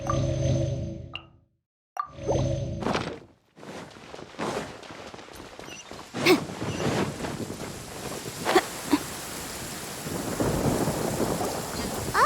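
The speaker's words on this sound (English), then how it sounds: "Paimon hears thunder!" Rolling thunder with heavy rain and gusting wind during a storm in the Genshin Impact video game, rumbling loud and close across the scene after a few brief breaks.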